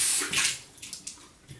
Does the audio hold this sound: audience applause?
no